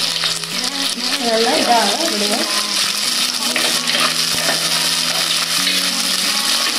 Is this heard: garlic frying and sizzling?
yes